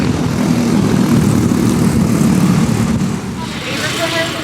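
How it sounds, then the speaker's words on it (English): Rental go-karts race around an oval track at Miami Speedway, making a loud, continuous engine drone that eases slightly toward the end. "This is a rental track where you could rent go-karts and race them in an oval only."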